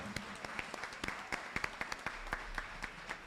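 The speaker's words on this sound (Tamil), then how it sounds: "உங்களுடைய பலத்த கரகோஷம்" Audience applause at a Tamil Thirunal 2024 debate event, a fairly faint, scattered patter of hand claps that runs steadily for a few seconds with no talk over it.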